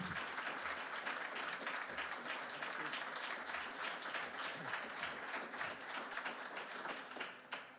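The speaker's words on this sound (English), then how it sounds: "Let's have a warm round of applause for Robert Shetterly from Brooksville," A warm audience ovation for artist Robert Shetterly of Brooksville, Maine, dense and steady from start to finish, easing off slightly just at the end, with no voices over it.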